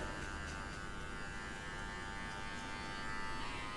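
Electric hair clippers run on a low setting with a comb guard while fading a haircut, giving a steady close buzzing drone throughout with no pauses.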